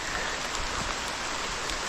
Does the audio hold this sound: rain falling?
yes